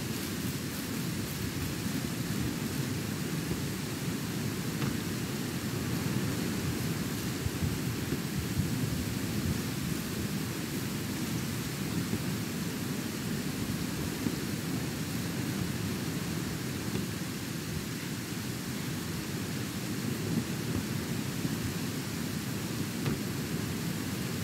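Steady rain and a thunderstorm in the ranch-building video game Ranch Simulator make a constant, even wash of rainfall with a low rumbling underneath. It holds unbroken throughout, with no talk.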